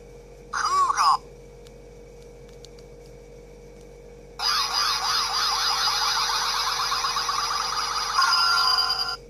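A Kamen Rider DX Sound Capsule Gaia Memory toy plays its electronic Cougar mighty form effect: a short synthetic chirp, then a long, loud warbling, siren-like tone that runs for several seconds.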